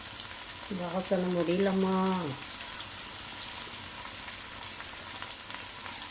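Food deep frying in oil, added a little at a time for a home-cooked non-vegetarian lunch, gives a steady, faint sizzle throughout, with a voice talking briefly near the start.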